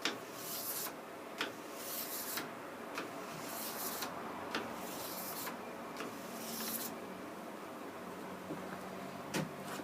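A woodworking gouge is polished with pull-only strokes, making soft, faint rubbing and rasping passes repeated in a steady rhythm about once a second, with no voices.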